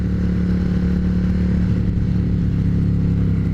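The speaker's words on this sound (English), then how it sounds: "you can hear the motor is just purring" A custom Suzuki Intruder motorcycle engine idles steadily nearby, a low, even rumble that holds constant throughout with no voices.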